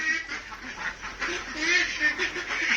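Domestic ducks on a farm quack in a loose, continuous chatter at close range, with several birds overlapping throughout.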